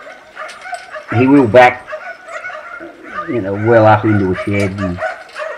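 A young sheepdog barks and yips in short bursts while working a single sheep race during herding, the barks close and loud, mixed in with someone talking.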